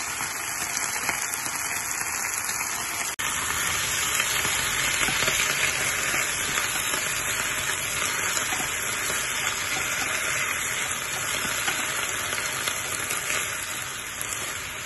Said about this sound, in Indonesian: Tumis sebentar aja